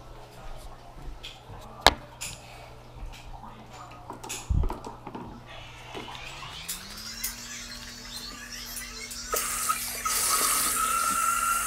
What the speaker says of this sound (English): Now let's go wash my hand.